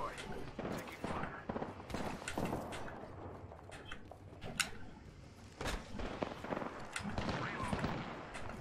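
Rapid gunfire in Apex Legends crackles throughout, bursts of automatic shots and single cracks mixed with footsteps and game effects, with someone talking over the action.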